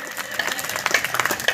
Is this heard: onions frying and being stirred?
no